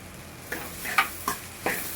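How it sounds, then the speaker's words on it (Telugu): Masala with chili powder, salt and turmeric frying in a pan, a soft continuous sizzle broken by a few sharp scraping stirs of a spoon, fairly quiet and close. "ఇలా బాగా మసాలా అంతా వాసన పోయేదాకా వేయించుకోవాలి ఫ్రెండ్స్"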